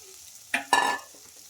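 Two short scraping, sizzling stirs of flattened rice in a hot pan with tempering, a brief one followed by a louder, longer one, then quiet.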